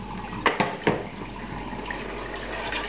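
Pork bouillon from cooking scallops is poured into a pan of thick, stodgy sauce, giving a soft liquid pour with a few splashy onsets at the start, then a steady gentle trickle; no one talks.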